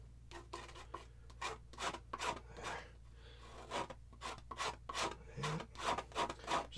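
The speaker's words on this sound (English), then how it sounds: "Let's go ahead and scrape this out." Palette knife scraping excess oil paint off a canvas, a series of close, soft rasping strokes in an irregular rhythm with short pauses between them, quiet and alone.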